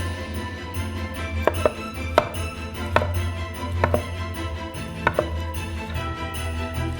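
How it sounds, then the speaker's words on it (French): Cooked potatoes with their skins on are sliced into rounds on a cutting board, about seven or eight sharp knife chops in an uneven rhythm over a low background hum. "On les met sur une planche et on les coupe en rondelles avec la peau."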